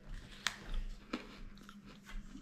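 Sharp crunches of teeth biting into freeze-dried marshmallow Peep candy, two distinct crisp bites about half a second apart, close up, followed by softer chewing.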